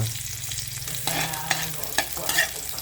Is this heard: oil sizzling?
yes